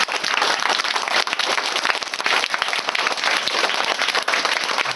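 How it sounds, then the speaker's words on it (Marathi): Schoolchildren clap hard and fast in a dense, continuous burst of applause that fills the room, steady and loud throughout with no pauses. "जीव तोडून कसं वाजवता बघू."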